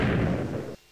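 A creeper blows up in Minecraft 1.8, a loud burst of rumbling game explosion noise lasting most of a second before cutting off abruptly into near silence.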